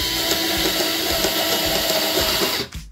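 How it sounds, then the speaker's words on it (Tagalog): An INGCO 8V portable cordless drill runs at a steady high whine while drilling, loud and close, then stops abruptly near the end. "Then, drill."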